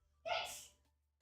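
A single sharp sneeze bursts out close by, brief and loud, fading within about half a second over a quiet background.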